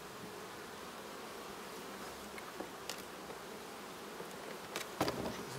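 Soft, steady buzzing of many honeybees close by at a hive, with a few brief clicks and knocks near the end.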